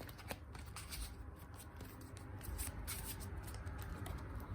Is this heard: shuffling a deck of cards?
yes